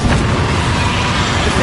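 A blast from the Bombarda explosion spell in Hogwarts Legacy, a dense sustained roar of broadband noise with heavy low rumble, loud and close throughout with no break.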